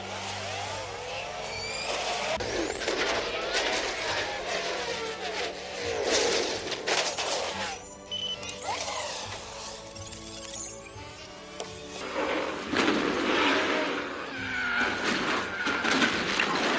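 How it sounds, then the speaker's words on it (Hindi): Race cars launching at the start of a race in a metaverse video game, with loud engine roars, revving and whooshing passes layered with tire noise, shifting and swelling throughout. "और ये होती है रेस स्टार्ट।"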